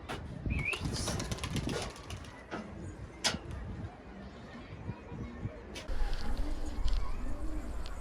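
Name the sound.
flock of pigeons flying, wings flapping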